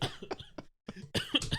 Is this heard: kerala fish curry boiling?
no